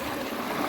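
Water rushing strongly along a river-like stream, a broad, dense wash of flowing noise heard close and continuous with no voices.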